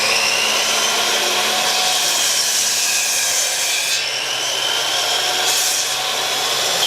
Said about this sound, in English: Time to cut stuff on the saw!